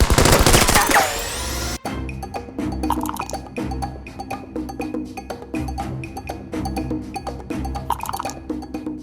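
A battle rifle gunfire sound effect for a sci-fi tabletop wargame battle: after a short loud noisy lead-in, a steady stream of rapid, punchy automatic shots and metallic clinks rattles on for several seconds, loud and close.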